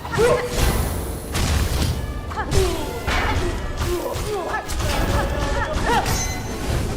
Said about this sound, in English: More explosions, I assume? Triple explosions?